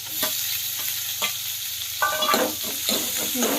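Chopped onion and tomato fry in a hot pan for a spinach gravy, a close hiss broken by repeated scraping stirs and clinks of a spatula.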